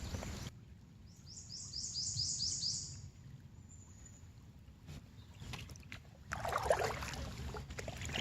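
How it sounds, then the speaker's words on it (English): Birds calling along the New River during a paddle trip: a quick series of high chirps near the start, then a fainter twittering burst later, both over soft low rumble and water noise. "Starting to hear the city, but I still also hear them birds."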